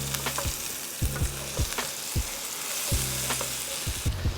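Shallots frying with mushrooms in a pan give a bright, continuous sizzle close by, broken by soft periodic thumps from stirring or the pan moving. There is no talking.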